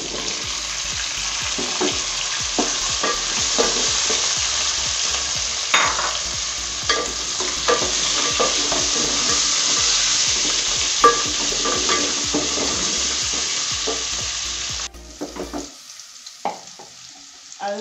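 Goat meat for pilau sizzles and fries steadily in a pot while being stirred, with scraping and clattering of the utensil throughout; the frying drops away near the end, leaving a few scattered knocks.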